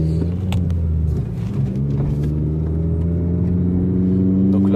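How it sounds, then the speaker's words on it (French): A red Honda Civic Type R FN2 engine pulls hard under acceleration, a steady rising mechanical drone with strong harmonics close to the cabin, sustained and loud throughout with no talking. "ça permet d'entendre le son du moteur"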